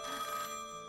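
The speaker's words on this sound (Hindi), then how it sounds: "ये लीजिए, साहब का फोन भी आ गया।" A telephone ringing in a Bollywood film scene set in the Raniganj coal mine area, a short, faint bright electronic ring heard alone.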